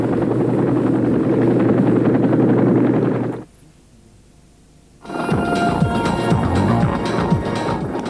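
A Sikorsky Skycrane helicopter flies with a loud, steady rotor throb that cuts out briefly partway through, then returns just as strong.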